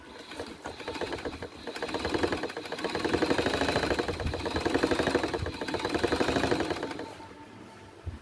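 A Singer portable sewing machine runs steadily for about seven seconds with a loud, rapid mechanical clatter, then winds down at the end.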